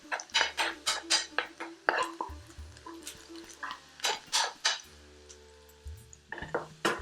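Fresh methi leaves cooking in a pan for bhuna chicken over a flame, with a utensil scraping and clinking against the metal in a rhythmic series of quiet strokes.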